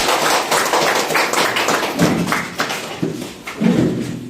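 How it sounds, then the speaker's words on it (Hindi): Audience applause for a guest arriving on stage at a health awareness event on traditional medicine, a dense, steady clatter of many hands over several seconds with heavier swells near the end. "जोरदार ताली।"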